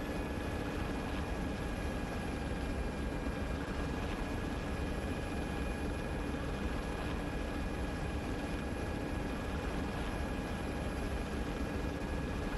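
A helicopter in a military video game drones on continuously, a dense steady rotor and engine roar with a faint whine, loud and unchanging throughout with no voices.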